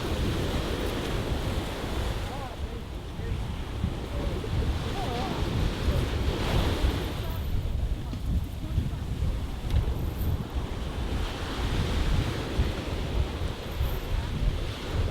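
Ocean surf rolling in at Coney Island beach, a steady wash of breaking waves mixed with gusty wind noise on the microphone, constant and fairly close, with faint voices in the background.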